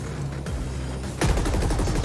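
Rapid burst of automatic gunfire in the video game The Ascent kicks in partway through, loud and rhythmic, after a steady background rumble.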